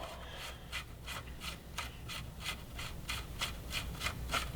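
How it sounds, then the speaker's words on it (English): Removing the axle nut from a 2011–2018 Suzuki GSX-R600/750 sportbike: a faint, rhythmic ratcheting or scraping repeats about twice a second over a low room hum. "So we're going to take the axle nut off."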